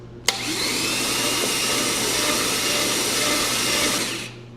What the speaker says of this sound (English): I first just want to know if this starter is even gonna work.